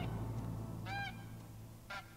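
Canada goose in the hunting game Hunter: Call of the Wild giving two short, loud honks about a second apart, each a nasal harmonic call over a low steady background rumble.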